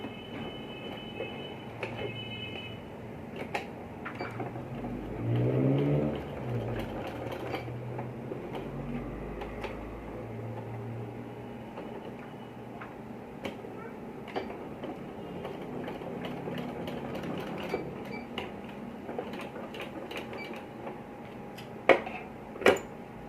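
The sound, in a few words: sewing machine stitching a button placket on a kurta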